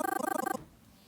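A sampler arpeggiator set very fast with a short gate fires a rapid stutter of clipped synth notes, evenly pulsing for about half a second before dropping to near silence.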